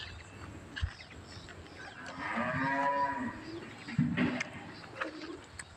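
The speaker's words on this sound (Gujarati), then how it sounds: "સૈયાના ઢોર છે" Cattle low once in a long, wavering moo from nearby, faint against a quiet outdoor background with a few soft knocks and bird-like sounds.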